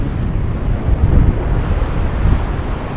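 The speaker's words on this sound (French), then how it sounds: "Il y a 15 km/h de vent de cul là qui nous pousse." Steady tailwind of about 15 km/h roaring and buffeting across the microphone on a hike, a dense low rumble with gusts swelling and easing, no voices.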